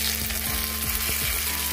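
Onion, potato and tomato sizzle and fry in a pan, a steady dense crackle with a few soft scraping stirs, close and alone without any talk.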